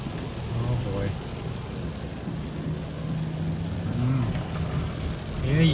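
Heavy rain pours steadily inside a moving car during a storm, a dense continuous hiss with low road and engine rumble beneath, fairly close and even throughout, with no clear separate thunderclap standing out.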